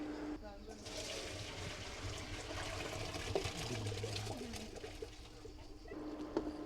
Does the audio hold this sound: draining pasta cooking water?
yes